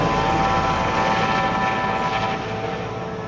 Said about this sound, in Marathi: मंदिरापाशी पोहोचलाय हेलिकॉप्टर.